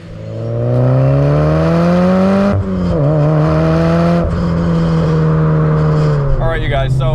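Built Mitsubishi Evo IV engine while driving, a loud droning tone rising steadily under acceleration, dipping sharply at a gear change, then climbing again with a brief blip near the end, heard from inside the car.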